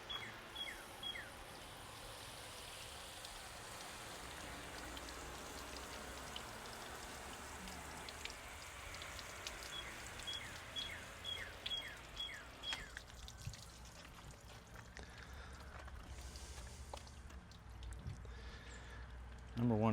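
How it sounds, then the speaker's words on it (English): Water flows heavily from a Kiev nozzle with no pressure, a soft steady patter and splash like rain on a surface, faint and continuous, with occasional chirping squeaks and a thump near the end. "So now we have the Kiev nozzle, which gives us a nice heavy flow of water without any pressure."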